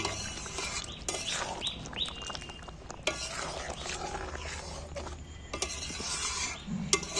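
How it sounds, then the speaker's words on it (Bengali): Kasuri methi being stirred into a chicken curry, with steady scraping and clinking of a utensil against the pan over a continuous low sizzle. "এবার আমি নেড়ে দিচ্ছি কেশরি মেথিটা যে দিলুম একটু নেড়ে মিক্সড করে নিচ্ছি"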